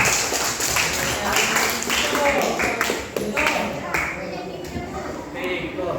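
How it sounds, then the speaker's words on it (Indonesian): A classroom of students applauds one classmate with a burst of quick, overlapping hand claps that carry on for several seconds amid children's chatter and voices. "tepuk tangan dulu untuk Riko."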